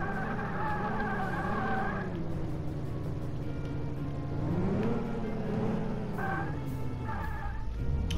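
A car in a city driving game skids on the handbrake, with a steady engine drone and tyre squeal that rises and bends in pitch, loud and continuous throughout.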